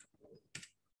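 A few quick keystrokes on a computer keyboard while dates are entered, brief close clicks within about a second.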